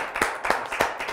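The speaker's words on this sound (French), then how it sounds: "Et on applaudit comme il se doit, s'il vous plaît, nos deux invités." A studio audience applauding two guests, a film director and producer and a company founder, heard as a short, close run of about five distinct hand claps at an uneven rhythm, fairly quiet with no talking.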